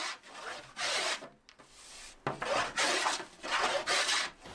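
Paulownia wood, naturally seasoned for two years, is carved into a gayageum body with a series of rhythmic, close, rasping scraping strokes separated by short pauses.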